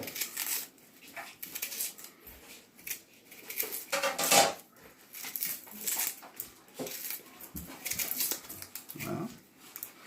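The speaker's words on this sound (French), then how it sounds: "On va éplucher l'oignon, vous voyez. Un oignon blanc par exemple." A white onion is peeled by hand: dry papery skin crackles and tears close by in irregular bursts, with a few light knocks of kitchenware and no talk.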